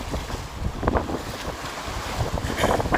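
Big sea waves at high tide splash over a seafront wall at Southend-on-Sea, a loud rushing wash of surf with bursts of spray mixed with heavy wind buffeting the microphone, and no talking.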